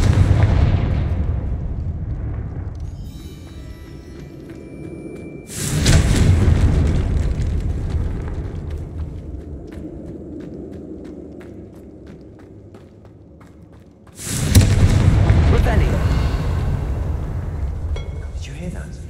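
Two heavy blasts from the Confringo fire spell in a Harry Potter video game set in a tomb, each bursting loudly and then rumbling down over several seconds, with a muffled voice and low ambience between them.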